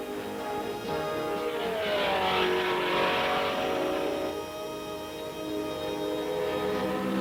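A race car runs qualifying laps on a big oval track, its engine a sustained harmonic roar that rises and falls in pitch as it passes, heard without talk.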